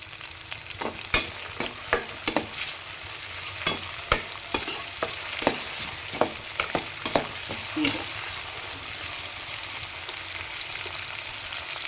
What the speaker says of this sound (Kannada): ಚೆನ್ನಾಗಿ ಫ್ರೈ ಮಾಡ್ಕೊಳ್ಳಿ ಇದನ್ನು.